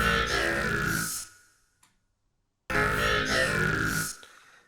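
Two bursts of a growling, formant-heavy synthesized vocal tone from a Vital synth preset, each about a second long and separated by a short silence.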